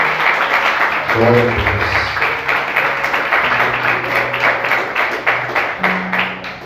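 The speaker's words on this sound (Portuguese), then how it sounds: "Aplauda Jesus com bastante alegria." Church congregation applauding Jesus during a sermon, a steady wash of clapping from many hands with a voice speaking over it and sustained tones underneath.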